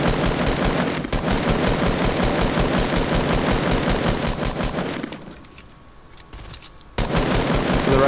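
Automatic weapon fire in the video game Fortnite: a dense, rapid rattle of shots for about five seconds, then a brief lull with sparse pops, before a loud burst resumes at the end.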